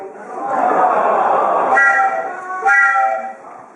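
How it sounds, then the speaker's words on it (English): A train whistle sounds in two short, steady blasts during a stage performance, rising over a muffled murmur of voices. "That's the train whistle."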